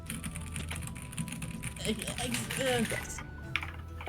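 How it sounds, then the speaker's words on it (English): Steady, rapid keyboard typing runs throughout over a busy background, with people chattering nearby and a few sharper clicks near the end. "Powerful typing."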